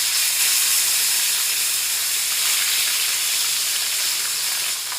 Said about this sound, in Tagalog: fry the fish first